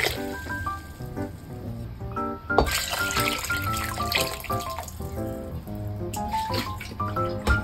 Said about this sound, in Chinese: 然后再加入清水